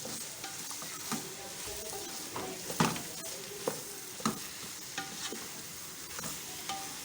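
Peas frying in a pan over a high flame, a constant sizzle punctuated by sharp spoon scrapes and taps against the pan every second or so, close and clear.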